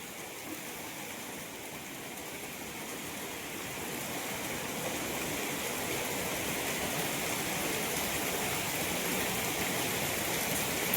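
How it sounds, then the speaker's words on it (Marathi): Heavy monsoon rain pours down over a village courtyard in a dense, steady hiss. It swells slightly louder over the span with no pauses and no voices. "बापरे किती पाऊस आला"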